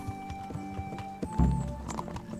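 Horse hooves clip-clopping at a walk in Kingdom Come: Deliverance, a steady medium-paced rhythm of close, dull thuds with game ambience and a louder bump partway through.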